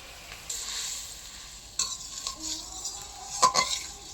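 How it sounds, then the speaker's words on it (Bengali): Fried parshe fish going into simmering gravy and being stirred in the pan, with a gentle sizzle and bursts of scraping stirring and a few light utensil clinks, close and moderately loud, with no voices. "ভেজে রাখা মাছ সব দিয়ে দেবো।"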